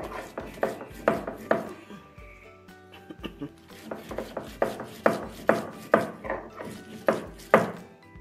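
Fried chillies and onions pounded together for dry fish chutney, a series of sharp, close thumps in uneven bursts, with a short pause midway before the rhythmic strikes resume.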